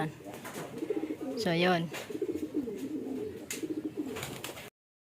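A racing pigeon coos nearby in a low, throaty burst during training while a person talks over and around it.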